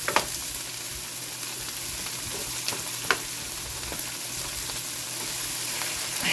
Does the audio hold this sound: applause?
no